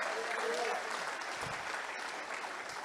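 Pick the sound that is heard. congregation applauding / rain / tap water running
congregation applauding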